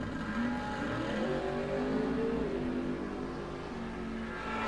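Drag racing cars, a Vega and a Corvette, launch side by side at a bracket series event, their engines a loud, steady roar with pitch climbing as they accelerate away.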